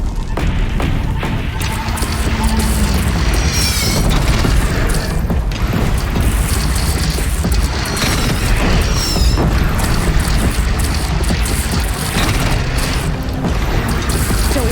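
Cannon fire during a battle in the Horizon Zero Dawn video game: heavy booms land amid clanking mechanical noise and crashes, a loud, dense, continuous din lasting about fifteen seconds.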